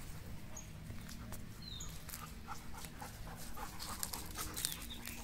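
Doberman dogs pant rapidly and steadily after running, a continuous close breathy rhythm with occasional faint squeaks, no talking.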